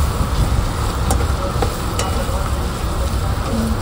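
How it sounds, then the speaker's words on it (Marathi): Potato pieces fry in plain oil in a pan, a close, steady sizzle with occasional clicks of stirring. "बटाटा जरा फ्राय वगैरे करून घेऊयात."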